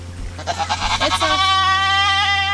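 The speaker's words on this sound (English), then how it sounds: "our little kid goat, our little doeling, that got stuck in a tree a few weeks ago" A young kid goat doeling on a homestead bleats loudly and close up in one long, wavering cry that starts with short stuttering pulses and then stretches into a sustained tone.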